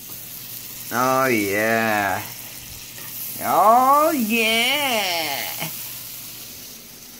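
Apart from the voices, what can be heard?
butter sizzling in a pan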